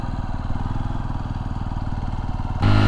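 A Honda XR150L motorcycle engine pulses in a rapid, even thrum while riding, close and loud, then swells sharply into a louder rev at the end.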